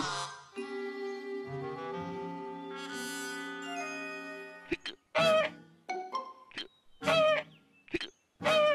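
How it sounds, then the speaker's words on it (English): A cartoon goose call honks in a long run of sustained, buzzy tones, then breaks into several short, sharp honks separated by gaps, all fairly clear and close. "A goose call."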